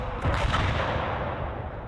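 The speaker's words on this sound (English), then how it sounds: "So the Demolisher is great because you get that 250mm Demolisher cannon." A Leman Russ Demolisher's 250mm cannon firing in a video game, one heavy booming blast followed by a long rumbling decay.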